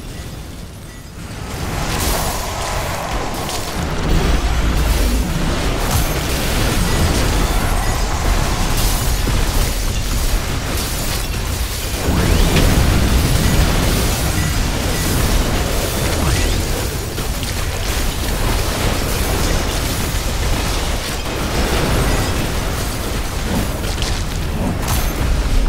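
Buildings being destroyed in The Riftbreaker, a steady heavy rumble of layered booms and explosions with bursts and whooshes that runs almost unbroken at high volume.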